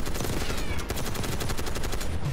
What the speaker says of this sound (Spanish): La ametralladora por la derecha.